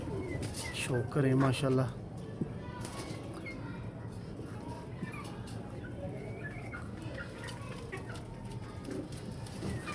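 A pair of large Hino breed pigeons cooing close by, a burst of low rounded coos early on, then softer bird sounds over a steady background while someone talks.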